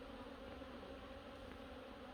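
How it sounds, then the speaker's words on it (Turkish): Hungry honeybees buzzing at freshly opened hive boxes during autumn feeding, a steady close drone of many insects humming continuously without pause. "Kovanların kapağını açtıktan sonra hemen arlar savrukmaya başladı."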